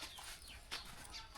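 Chickens give quiet, brief clucks close by in a rural Thai setting, a few soft calls within a second and a half.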